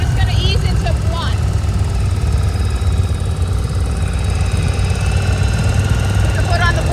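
A car engine held steady at about 2,000 RPM gives a continuous low droning hum throughout, with voices talking faintly over it.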